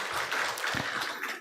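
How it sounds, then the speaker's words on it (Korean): Church congregation applauding together during a Korean Sunday service, a dense wash of hand clapping that holds steady, then cuts off abruptly. "하나님께 감사의 박수 한번 올려드리면 좋겠습니다."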